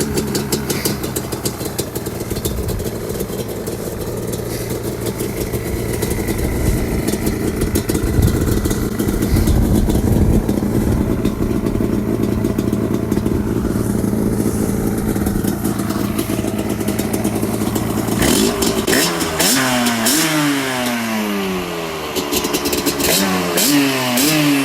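A loud Yamaha Banshee ATV engine, revived after sitting 14 years, idles steadily, then revs repeatedly in rising and falling bursts near the end, with no talking.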